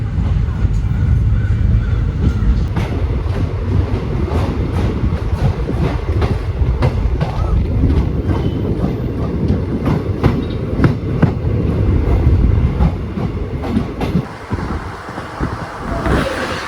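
An express train on the Chikkamagaluru–Yesvantpur run rolls along the rails after leaving Tiptur, wheels clacking in a steady rhythm over rumbling carriage noise and wind buffeting, heard close from on board.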